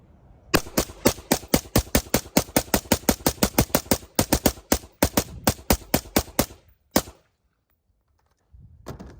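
Rapid semi-auto rifle fire through an Otter Creek Labs Polonium K suppressor, a long steady string of sharp suppressed shots emptying a magazine, then a brief pause, one last shot and quiet.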